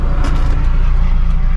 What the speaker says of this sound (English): Highway is busy.